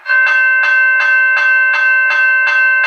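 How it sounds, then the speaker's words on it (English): A General Signals Type 1 electronic railway crossing bell rings loud and close in a fast, steady series of about eight clanging strikes, each with a bright metallic ring that carries into the next. "And now I'm going to ring the bell."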